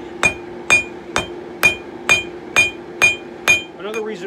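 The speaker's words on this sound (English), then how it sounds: "Forge out the leaf. A little cross peening." A hammer cross peens hot steel on a 66-pound anvil, ringing out in eight evenly spaced, sharp metallic strikes before a short faint rustle at the end.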